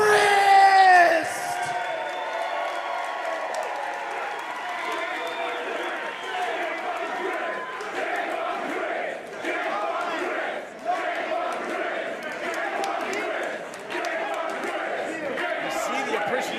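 A wrestling crowd at a Wrestling Revolver show roars and cheers for champion Jake Crist, a steady wash of loud, sustained crowd noise with a brief shout at the start.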